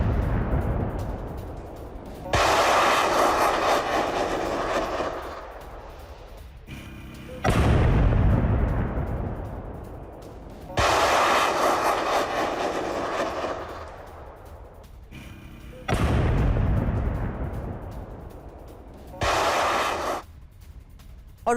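A tank fires on a Russian military post in the Russia-Ukraine war: four heavy booming shots spaced a few seconds apart, each with a long rolling echo, loud and with no voices.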